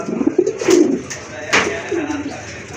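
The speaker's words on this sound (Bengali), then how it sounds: "একজোড়া লাহোরি কবুতর" A pair of grey-barred Lahori pigeons coos in a few soft, throaty calls spread across the moment, fairly close, with faint human voices in the background.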